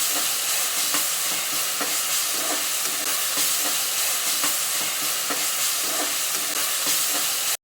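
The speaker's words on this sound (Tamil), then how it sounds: "அது கூடவே ஒரு கைப்பிடி அளவு கொத்தமல்லியும் சேர்த்துட்டு நம்ம நல்லா வதக்கிக்கலாம்" Mint and coriander sautéing in hot oil in a pan for coconut milk rice, a dense steady sizzle and hiss with regular stirring scrapes throughout, close up and with no talking.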